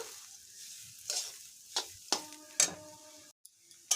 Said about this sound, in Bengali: দেখুন আমার এই ডালটা এখনো ভাজা হচ্ছে সম্পূর্ণ ভাজা হয়নি এখনো